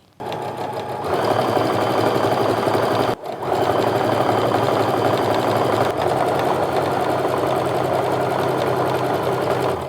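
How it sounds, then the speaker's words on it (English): A sewing machine stitches a quilt section in a steady, loud mechanical whir, with a brief pause partway through before it resumes and runs on evenly to the end. "I'm gonna go ahead and sew my last section over here to the center"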